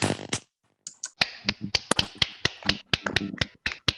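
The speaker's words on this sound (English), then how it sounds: "I would just want us to unmute ourselves and applaud for ourselves and for the discussion today." Online meeting participants clap after unmuting, a scattered run of sharp, close, separate claps that start after a brief silence and come from a few people at once.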